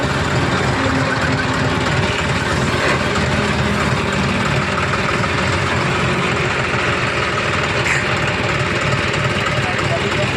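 A John Deere 5050 E tractor engine idles with a loud, steady, unbroken rumble at close range. Someone talks over it throughout.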